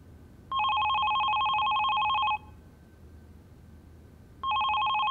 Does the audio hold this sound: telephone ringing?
yes